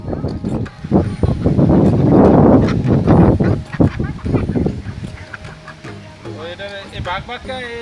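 Ducks at a duck farm beside a pond in Bangladesh quack in a busy jumble, with a clearer run of quacking near the end, while people talk close by.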